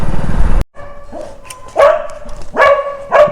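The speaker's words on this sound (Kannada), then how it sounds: "ನಾಯಿ ಈ ಥರ ಬೊಗಳ್ತಾ ಇದ್ದಿದೆ" A dog barks outside an apartment building, giving three loud, sharp barks spaced about half a second to a second apart, preceded by a brief burst of other noise that cuts off abruptly.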